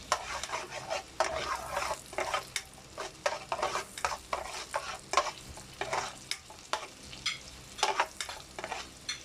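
Boneless chicken frying in a pan for white sauce pasta, a constant sizzle under frequent utensil stirs and scrapes against the pan, fairly close, without speech.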